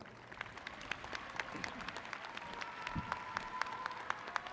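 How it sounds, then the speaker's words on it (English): Commencement crowd applauding outdoors at a spring university graduation ceremony, a steady wash of many hands clapping with sharper individual claps standing out, sustained at moderate loudness throughout. "So a round of applause for the weather."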